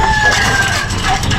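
Chickens being fed pellets on a Filipino farm, clucking and crowing close by in a steady, dense flock chorus with no break in the sound.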